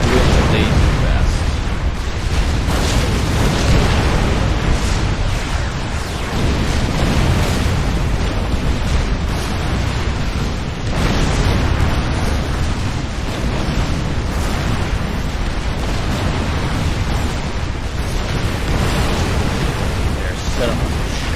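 Mobile artillery shells pound a base in an AI arena strategy game match, a loud, dense and unbroken barrage of booms and rumbling bursts that runs the whole way through with no pauses.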